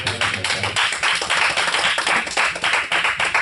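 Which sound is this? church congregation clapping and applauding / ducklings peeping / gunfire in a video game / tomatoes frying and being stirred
church congregation clapping and applauding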